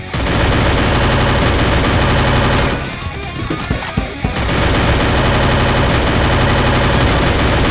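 Gunfire from the Free Fire video game rattles in loud, dense, continuous automatic bursts, easing into a short, choppier lull midway before the heavy shooting resumes.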